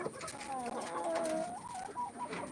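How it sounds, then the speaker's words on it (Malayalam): Kadaknath black chickens, two roosters and two hens, cluck softly and let out drawn-out tonal calls nearby, a few overlapping vocalizations at low volume. "കരിങ്കോഴി"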